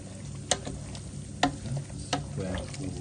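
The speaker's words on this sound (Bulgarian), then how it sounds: "А тук си запържваме сьомга на парченца" Salmon pieces fry in a pan as a creamy spinach-and-mushroom pasta sauce is added, giving a steady close sizzle broken by a few sharp stirring knocks.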